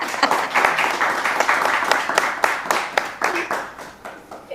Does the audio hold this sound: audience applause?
yes